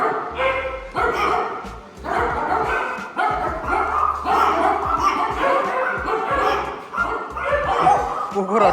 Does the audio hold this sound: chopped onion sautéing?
no